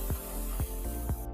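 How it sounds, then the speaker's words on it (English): Brake cleaner sprayed onto the drum brakes of a lithium golf car comes as several short aerosol bursts, about four quick hisses close to the microphone over a steady background hum, with no talk. "I'm just gonna spray off the brakes with some brake cleaner."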